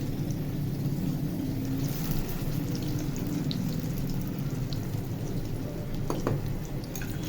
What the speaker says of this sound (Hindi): देखिए जी कितने अच्छे फ्राई हो रहे हैं, ब्राउन ब्राउन गोल्डन से कबाब फ्राई हो रहे हैं